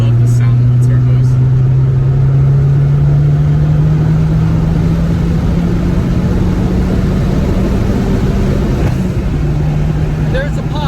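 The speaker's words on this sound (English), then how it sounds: "I love the sound of the turbos." Fiat 500 Abarth turbo engine pulls hard under acceleration, a loud continuous drone with a slowly rising pitch heard from inside the car, sustained throughout with road and wind noise.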